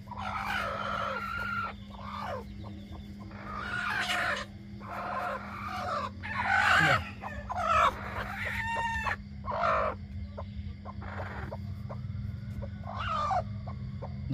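Brooding hens sitting on eggs cluck in short, separate bursts, with a rooster crowing near the middle and a low steady hum beneath.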